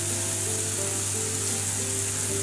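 Dry masala spice powders, including coriander powder, cooking in a pan for paneer masala, giving a steady soft sizzle with a faint watery hiss and a low hum underneath, close and continuous.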